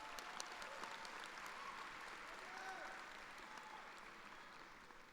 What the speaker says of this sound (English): Come on, let's clap for him.